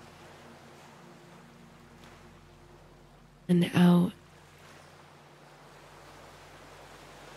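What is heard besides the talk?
rolling ocean waves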